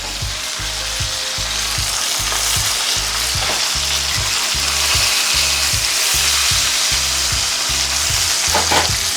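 Chuck steak sears in a hot pan after being flipped, giving a loud, steady, close sizzle that crackles without a break, with no voices.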